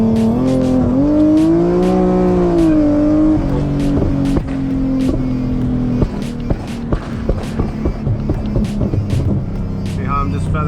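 An Infiniti G37 with an UpRev tune revs toward about 5,000 rpm in second gear, then the throttle is lightly feathered as it slows down. The engine note drones and wavers in pitch, with sharp pops and crackles on the deceleration.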